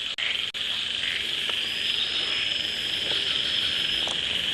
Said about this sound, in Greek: κουνούπια είναι